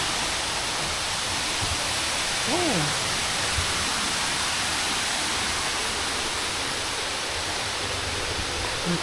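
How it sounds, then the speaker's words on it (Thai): Jed Sao Noi waterfall in Muak Lek, Saraburi, pours as a steady broadband rush of falling water, constant and close, with a brief voice heard over it. "สวยมากน้ำตกเลยนะ"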